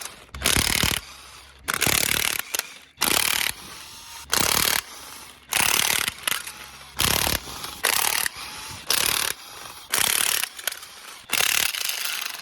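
Rapid ratchet clicking in repeated bursts as head bolts are loosened on a blown 4.9L engine, close and sharp, with brief pauses between each run of strokes and no talking.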